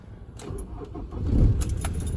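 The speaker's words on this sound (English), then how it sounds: "That diesel fires straight into life" Keys jangle before a 2010 Ford Transit diesel box van's engine cranks and fires into life, rising to a loud, close starting burst that settles toward idle.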